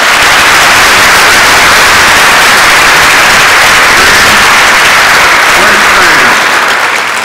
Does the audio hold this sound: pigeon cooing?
no